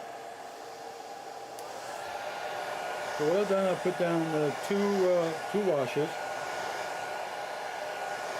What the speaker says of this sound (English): So I'm going to turn the dryer on